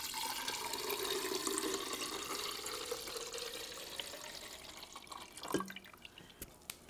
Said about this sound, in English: Just put that in the reservoir.